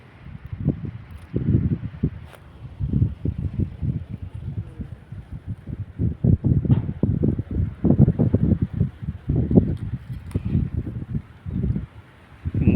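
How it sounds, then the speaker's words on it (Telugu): Wind at sea blows over a small fishing boat, buffeting the microphone in loud, rumbling gusts that rise and fall without stopping. "గాలి బాగున్నది ఫ్రెండ్స్, గాలి బాగున్నది, అలలు కూడా బాగా వస్తున్నాయి."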